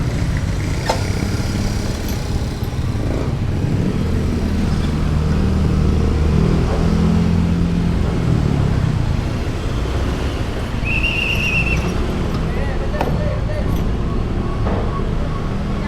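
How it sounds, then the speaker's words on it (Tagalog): Steady road traffic rumbles around a car in slow, congested traffic after a flood, with engine drone and passing vehicles throughout and a brief higher whine near the middle. "Traffic pa rin talaga."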